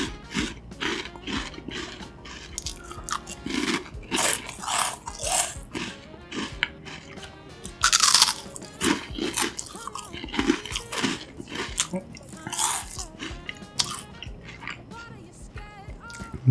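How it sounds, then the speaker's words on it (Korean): A crunchy jjajang-flavored snack is chewed close to the mic, with loud, crisp crunches in quick repeated bursts and no talking. "다음은 짜장 맛 과자 먹어보겠습니다"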